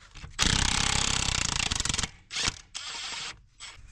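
A nut buster tool hammers at a wheel nut on a Kirovets tractor: a loud, rapid close-up rattling burst lasting over a second, then shorter bursts separated by brief pauses, with no talk.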